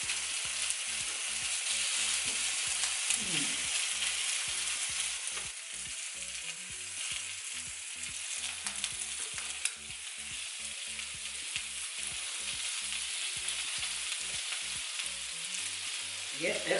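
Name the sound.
prawns sizzling on a home barbecue grill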